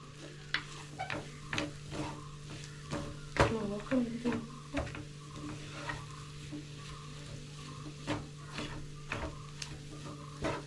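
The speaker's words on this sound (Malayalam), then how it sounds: "അടി പിടിക്കാതെ ഇളക്കി കൊടുക്കുക" A spoon stirring fried masala in a pan for a Kerala-style roasted-coconut chicken curry, repeated scraping strokes at a steady, close rhythm over a low hum, with faint sizzling underneath.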